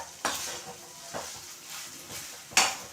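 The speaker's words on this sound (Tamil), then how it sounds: "அதை போட்டுட்டு இது மாதிரி நல்லா கிளறி விட்டாச்சு." Mint chutney being stirred into rice in a pan for mint rice: three or four scraping strokes of a spoon against the pan, spaced about a second apart, over a soft hiss, near and quiet, with no talking.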